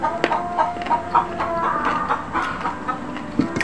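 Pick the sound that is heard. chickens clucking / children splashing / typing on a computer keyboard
chickens clucking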